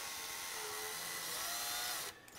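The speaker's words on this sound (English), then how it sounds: "See how that chuck is starting to tighten up around there?" A power drill whirs steadily and faintly as its chuck tightens around a bit, then cuts off near the end.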